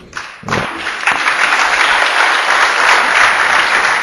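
Crowd at a professional 10-ball pool final bursts into loud, sustained applause after a sharp shot, rising within a second and holding full and steady to the end.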